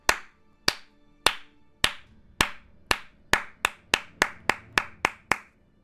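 A single pair of hands claps slowly and loudly, about thirteen sharp claps that start spaced apart and gradually quicken, alone in a quiet room.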